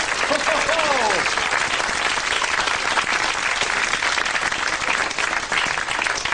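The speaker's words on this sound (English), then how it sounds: "Give her a clap!" Dense, sustained audience applause at a live Sooty stage show after a sawing-someone-in-half magic trick, loud and steady throughout, with a brief voice over the start.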